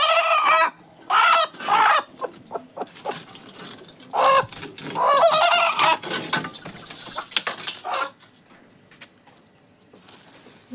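A hen in an animal enclosure clucks and squawks in agitated, repeated bursts while fighting as her eggs are taken from under her, loud and close, with someone speaking between the calls.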